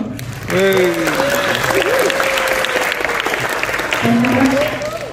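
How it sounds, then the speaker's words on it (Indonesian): Applause from an indoor audience at a film premiere gala night, a sustained burst of clapping from a crowd with a voice speaking over it and a few tonal sounds. "Tepuk tangannya mana dong?"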